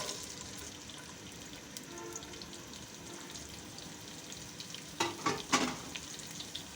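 Onions and spices fry in oil for bhuna khichuri, a faint continuous sizzle with a few louder clattering stirs and splashes near the end.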